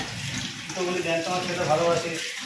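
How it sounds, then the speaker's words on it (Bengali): Tap water runs steadily while hands are washed in a kitchen sink, a close splashing hiss lasting a couple of seconds with faint voices underneath. "তাহলে হাত যখন দিয়েছিস তুই ধুয়ে নে"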